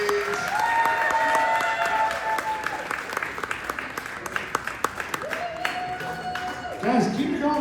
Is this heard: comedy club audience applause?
yes